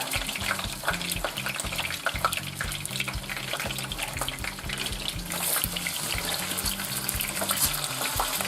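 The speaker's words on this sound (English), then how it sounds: "we're just gonna lay our chicken down into a skillet. Be careful of the popping." Chicken pieces for Hungarian paprikash frying in a skillet, a steady dense hiss of sizzling fat with crackles throughout, close and continuous over faint rhythmic background music.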